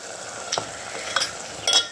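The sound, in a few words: mutton frying in spiced tempering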